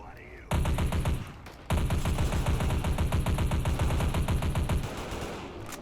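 A modded gun in the Fallout 4 video game fires a fast, loud, sustained burst, with a short break and a second long volley before it tails off.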